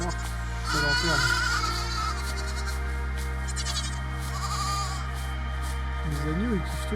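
Lambs bleat in the fantasy exploration game AER: Memories of Old, a few wavering calls rising over a steady droning game soundscape.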